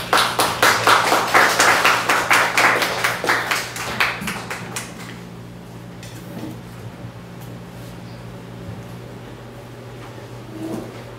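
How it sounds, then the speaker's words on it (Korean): A church congregation applauds to welcome a visiting missionary speaker at a Sunday service, rhythmic clapping from many hands for about four seconds that dies away into quiet room noise with faint shuffling. "나오실 때 박수로 환영해 주시기 바랍니다."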